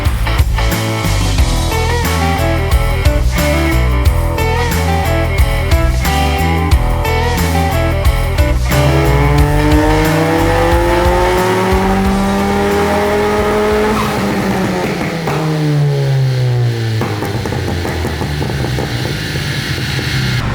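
A tuned Citroën DS3 with a turbocharged THP engine making over 300 hp roars on a dynamometer, climbing through the gears with rising pitch and crackling, loud and sustained before easing off near the end.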